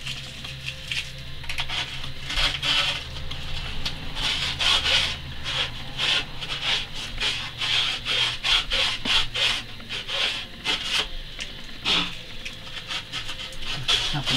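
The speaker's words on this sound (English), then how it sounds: "Should also really rough on the inside of the shaft as well" Inside of a stand-up paddleboard paddle shaft being roughened by hand, giving a close, rhythmic run of scratchy rubbing strokes that keeps going with little talk.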